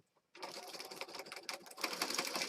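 A sewing machine stitches across journal paper, starting abruptly after a short quiet moment into a rapid, steady mechanical chatter that stays close and fairly loud to the end.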